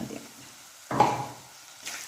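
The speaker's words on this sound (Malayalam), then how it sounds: "ഇത് നന്നായിട്ട് ഇളക്കുക." A spoon stirs boti curry with cumin and pepper in a pan, giving soft scraping strokes and a sharper clink against the metal midway, all quiet with no talk.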